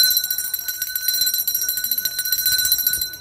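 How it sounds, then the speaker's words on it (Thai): A bell rung repeatedly at a Thai floating-market som tam food stall, with bright sustained metallic tones ringing in a steady rapid pattern, loud and close throughout. "อันนี้ระฆังนะคะแล้วก็มีคล้องค่ะตีเมื่อไหร่ปังเมื่อนั้นนะคะ"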